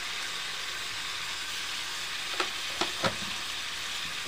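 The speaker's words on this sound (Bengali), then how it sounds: "অল্প আঁচে ভালোভাবে আমি ভাজি নেব মাংসটা" Local free-range chicken pieces fry in a pan over low heat, a steady dense sizzle with three brief stirring scrapes near the end, close and without talk.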